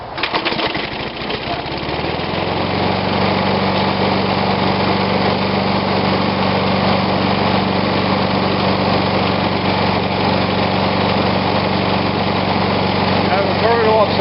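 An old Snapper push lawn mower undergoing refurbishment sputters through a rough start for about two seconds, then settles into a loud, steady running drone that continues close by to the end.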